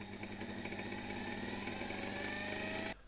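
A 1924 Electrolux V vacuum cleaner, just repaired, runs with a steady loud motor hum and whine for about three seconds, then is switched off abruptly, leaving quiet room tone.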